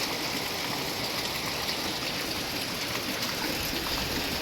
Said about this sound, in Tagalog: Super lakas nga lang talaga ng ulan dito ngayon.